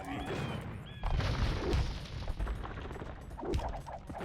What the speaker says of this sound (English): Oh, Onager shots.